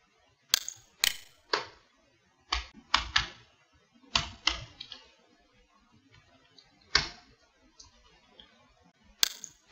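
Keys clack on a computer keyboard as code is typed, in short irregular bursts and single sharp clicks with brief pauses between, close and crisp with no talking.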